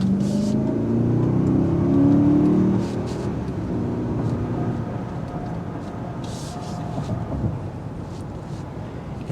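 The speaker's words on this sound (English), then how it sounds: "Bi-turbo V8 going a little bit," The bi-turbo V8 of a 2022 Mercedes-Maybach GLS600 pulling away on the road, a deep, subdued engine surge that swells early and then settles into a steady muffled cabin rumble with faint ticks.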